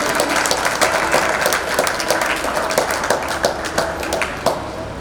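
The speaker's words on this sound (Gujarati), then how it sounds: "એક વાર તાળીઓથી એમને વધારે." A crowd at a gathering honouring soldiers breaks into sustained applause, dense and fairly close, with many hands clapping steadily for several seconds.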